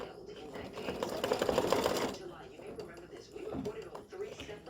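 A computerized embroidery machine stitches letters onto card stock with long stitches, giving a loud, rapid mechanical whirring and clatter for about two seconds before settling into quieter, intermittent stitching.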